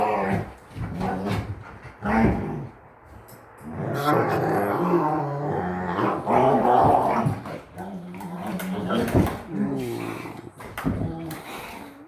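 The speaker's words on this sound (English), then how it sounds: "Epic Malinois fight." Malinois dogs growl, snarl and grunt in a rough tussle, loud and close, with bursts of vocal noise and a person talking over them.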